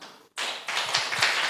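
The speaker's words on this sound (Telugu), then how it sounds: "అందరం గట్టిగా చప్పట్లు కొడదామా?" A church congregation at a Sunday service claps hands together, a sharp burst of steady, fairly close applause after a brief silence.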